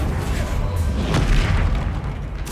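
A Confringo blasting spell explodes in Hogwarts Legacy combat, a loud booming burst with a rumbling low tail and crackling debris, dense and close.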